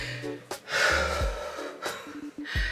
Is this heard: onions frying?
no